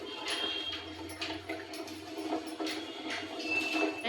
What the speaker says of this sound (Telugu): సో కడిగేసి ఫ్రెష్గా నీట్గా రైస్ అయితే నేను వేసుకుంటున్నాను.